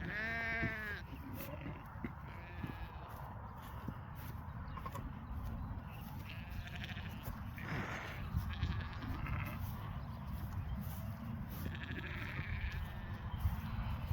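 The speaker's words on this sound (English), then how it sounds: "Be a sheep and follow the rest, because that's what sheep do." Sheep ewes on a farm bleating, one clear close call at the start followed by scattered fainter bleats over steady outdoor background noise.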